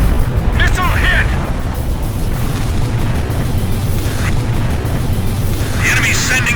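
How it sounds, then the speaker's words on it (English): Missile striking a target in the video game Ace Combat 5, a deep booming blast buried in a dense, continuous roar of jet and battle noise that runs the whole time. "Missile hit!"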